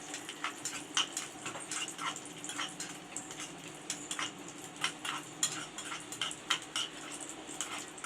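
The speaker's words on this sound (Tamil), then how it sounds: "இதையும் சேர்த்து நல்லா வறுத்துக்கலாம்." Cashews and raisins frying in a pan for payasam, faint quick ticking and light scraping taps of a spoon repeating throughout over a low hiss, quiet and without voices.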